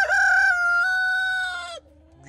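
A rooster crows once, a loud, close, drawn-out call lasting nearly two seconds, then breaks off into quiet barnyard background in a flock of six hens and five roosters.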